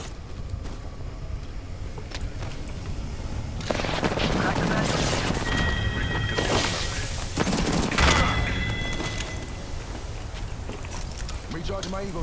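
Rapid bursts of gunfire from a shooter video game crackle through most of the stretch, loud and dense in the middle, with a player talking over the shooting.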